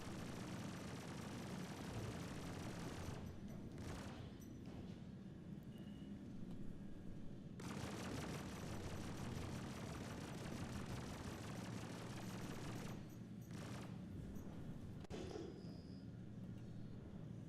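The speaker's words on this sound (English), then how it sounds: "There's someone else shooting me." Continuous rapid gunfire in the space combat game Star Citizen, dense sustained bursts that briefly drop out twice before resuming, fairly faint overall with no talking.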